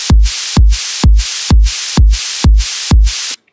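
Sidechain-style pumping made with curved volume automation in Reason, heard as seven loud kick-like thumps at a steady half-second rhythm, each followed by a hissy noisy wash that swells back in, ending abruptly.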